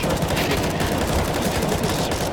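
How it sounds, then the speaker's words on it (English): Rapid automatic gunfire from Counter-Strike on the Dust2 map during a professional match, a dense, loud burst of shots filling the whole moment without pause. "there's Stewie with a perfect headshot"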